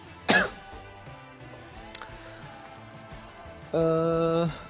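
A sharp cough early on, then quiet, followed by a longer voiced throat clearing near the end, close to the microphone.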